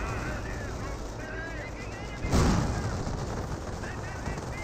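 Battle gunfire from Company of Heroes, with a Rifleman squad under fire: a steady crackle of rifle and machine-gun shots with one heavier booming impact midway, while a voice talks over it.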